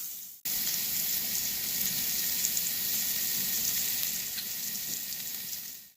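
Thick rib eye steak sizzling on a Philips Smokeless Indoor Grill, a steady close hissing fry that starts abruptly and holds evenly for several seconds before fading at the end.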